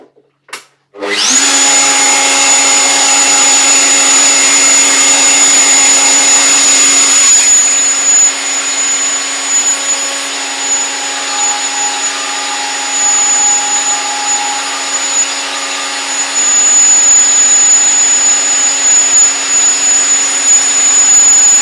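A woodworking router table runs with a loud, steady high-pitched motor whine that starts abruptly and holds for the whole stretch as wood is fed past the fence with a push block, the tone dipping slightly partway through.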